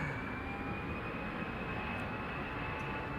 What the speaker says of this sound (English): Another couple of wide bodies are coming.